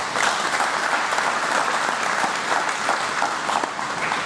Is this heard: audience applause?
yes